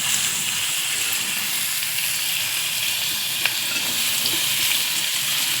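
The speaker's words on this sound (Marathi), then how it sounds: "पूर्ण टॅमॅटो आणि कांदा पूर्ण लाल करून घ्यायचा आहे तेलात" Chopped onion and tomato frying in oil in a pan, a steady broadband sizzle with faint stirring clicks, constant and close with no voices.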